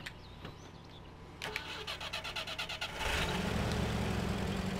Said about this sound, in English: switching over to our little Jeep here and driving over there